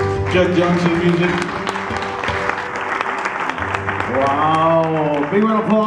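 Audience applause for a performer at a Hawaiian music show, clapping running under prominent music or voices throughout.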